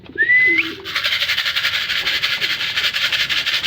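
Pigeons cooing at a home loft around feeding time, a soft repeated low coo with a brief high whistle-like call at the start and a steady bird chatter underneath.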